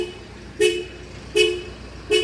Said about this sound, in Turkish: nasipse korna ile birlikte uyarı vermeye başlayacak diyecektim ki vermeye başladı